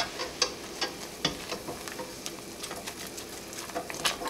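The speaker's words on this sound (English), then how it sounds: "we are going to add 4 tablespoons of flour. Just sprinkle that in. We are making a basic roux." A roux of butter and flour cooking in a pan, a quiet continuous sizzle broken by soft, irregular stirring taps.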